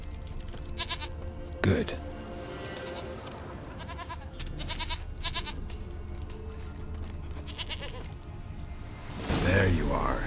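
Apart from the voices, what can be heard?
goat bleating in the video game The Witcher 3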